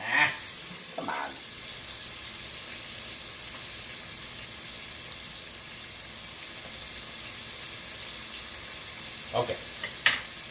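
A seafood chowder's tomato base sizzles softly in a pot, a quiet continuous frying hiss with a few sharper clinks and stirring scrapes near the start and end.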